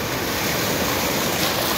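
Strong sea waves surge and crash, a loud, dense, continuous roar of rushing water with wind buffeting close to the microphone.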